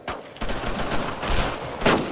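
Dense gunfire in the World War II shooter Brothers In Arms: Road to Hill 30, rapid overlapping shots in quick bursts, loud and close throughout.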